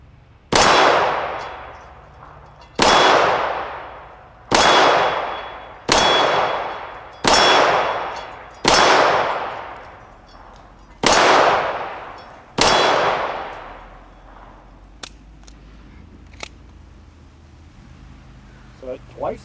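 Walther P38 pistol fired at an outdoor shooting range: eight loud, sharp reports at roughly even intervals, each ringing off with a long echo, followed by quieter clicks and handling noises.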